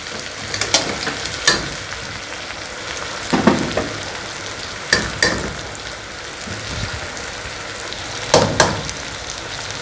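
Chicken sizzles and fries with onion, garlic and ginger-garlic paste in a karahi, a steady loud crackle close up with occasional stirring scrapes, no voices.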